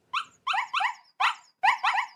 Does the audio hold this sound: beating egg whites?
no